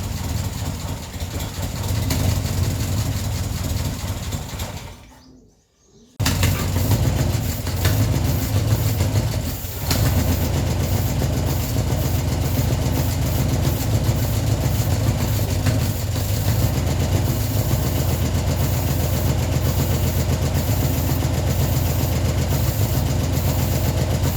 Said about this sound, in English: now it's running nicely, just on the fuel in the bowl, and it just idles really nice